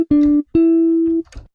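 Clean jazz electric bass preset in Soundtrap playing two sustained low notes, a short plucked note followed by a longer held one, separated by a brief gap and ending in a soft trailing thump.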